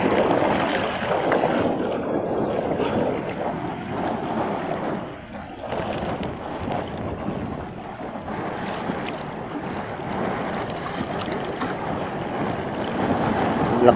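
Strong wind buffets the microphone while big waves wash against a small fishing boat at sea in a continuous roar, with faint voices briefly audible.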